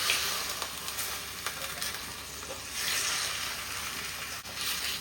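Mutton kunna with desi spices fries in a clay pot, giving a steady sizzling hiss that swells and eases as it cooks, with faint stirring.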